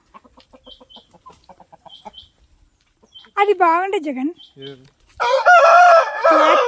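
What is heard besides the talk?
chickens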